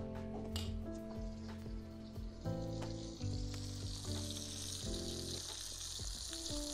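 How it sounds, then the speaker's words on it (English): Bacon strips fry on a griddle for smashburgers, a steady hiss of sizzling fat with a few soft scrapes and taps as the strips are flipped, alone and close. "Flipping bacon takes supreme focus."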